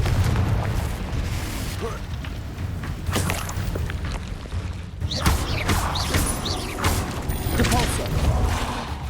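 Spell blasts and booming impacts from Confringo casts in Hogwarts Legacy, loud and dense, with repeated bursts and crashes layered over continuous combat noise throughout.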